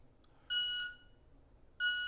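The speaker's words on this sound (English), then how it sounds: "So when I press this button, there's gonna be a random start. You're gonna hear 2 beeps." A pistol shot timer gives two sharp electronic beeps about a second apart, the first signalling the start of a draw and the second marking the par time, loud and clear against a quiet room.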